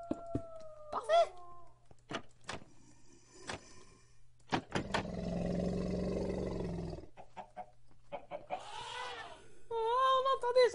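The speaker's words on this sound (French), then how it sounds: "On entend des éléphants, on entend des loups, on entend tout." Elephants and wolves calling in a desert survival video game, heard as a rough roar in the middle and howl-like wavering cries near the end, loud and close, mixed with game clicks and other effects.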